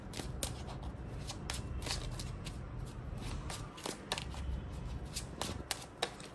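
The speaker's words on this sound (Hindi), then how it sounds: "मैं 2 सेकंड के लिए शफ़ल कर रही हूँ।" Tarot cards are shuffled by hand in a steady run of crisp, close riffling and snapping flicks with no talk.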